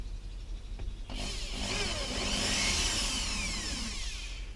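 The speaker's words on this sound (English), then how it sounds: "And you just need to just drill" Drill boring into the wood of a bait hive, a whining motor that rises and sweeps in pitch as the bit cuts, close and fairly loud, with no speech.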